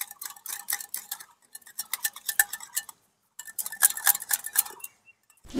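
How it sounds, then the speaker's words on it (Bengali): Yogurt being whisked in a bowl with ajwain, salt and chili for pakora batter: quick, rhythmic clinking and scraping of utensil against the bowl in bursts, with a short pause midway, close and fairly clear, no talk. "দইটাকে খুব ভালো করে ফেটিয়ে নিলাম"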